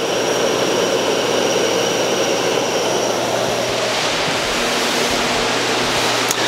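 A fan taped into one layer of greenhouse poly runs nonstop, blowing air between the double layers, a steady, loud broadband whoosh with a faint hum, alone and unchanging throughout.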